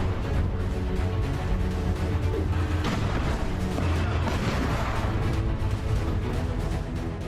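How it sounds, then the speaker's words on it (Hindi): Israeli airstrike and Merkava tank fire in southern Lebanon, a dense, continuous rumble of blasts and crashing booms with no quiet gaps between them. "दक्षिणी लेबनान में इजरायल की एयर स्ट्राइक। ग्राउंड पर मरकवा टैंक से प्रहार।"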